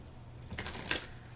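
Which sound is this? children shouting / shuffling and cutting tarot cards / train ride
shuffling and cutting tarot cards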